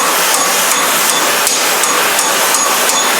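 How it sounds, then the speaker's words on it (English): A ball peen hammer strikes sheet metal being shaped into a rose, a quick steady series of sharp taps close by. "Now I'm going to take the ball peen in."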